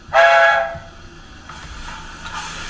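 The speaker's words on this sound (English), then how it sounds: "You've also got a short whistle on function 4." A short whistle from a Rapido S160 OO gauge locomotive's DCC sound decoder, one brief bright blast at the start, then faint softer tonal sounds trailing off.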